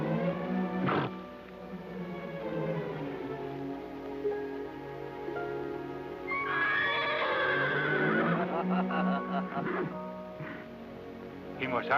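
A horse in a Western adventure neighs and whinnies loudly and up close, with several long, rising and falling cries and a faint clip-clop of hooves.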